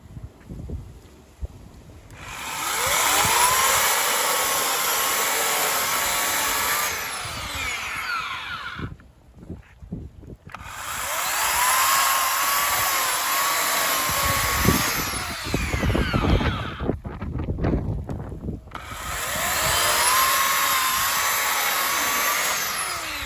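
A Mächtz MCE 2740 S electric chainsaw runs in two loud sustained bursts of steady high whine, with a brief pause between them, close to the microphone.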